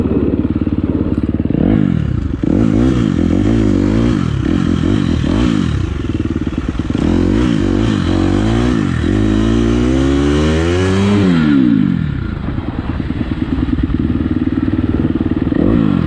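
Motorcycles rev and ride hard, engines rising and falling in pitch through repeated gear changes, loud and close with clatter and thumps from the bikes.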